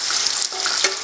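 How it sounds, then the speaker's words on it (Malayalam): Green chillies and curry leaves frying in hot oil for a Konkani beaten-rice snack mixture: a close, continuous crackling sizzle with small popping bursts throughout, no talking. "വേപ്പിലയും ഈ മുളകിൻ്റെ ഒപ്പം കിടന്ന് നല്ലോണം ക്രിസ്പി ആവുന്ന വിധത്തിൽ"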